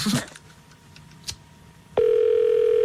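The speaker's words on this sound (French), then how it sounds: "On appelle Margot" A telephone line during a radio prank call: a few faint clicks and keypresses, then a steady, loud ringing or dial tone takes over for the final second, with no talk.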